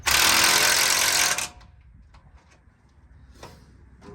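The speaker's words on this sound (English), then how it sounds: "I got an impact wrench, but as long as I don't over force this" One loud burst of an impact wrench, about a second and a half of rapid hammering whir while fitting a rocking chair at a tiny home, followed by quiet light clicks and handling noises.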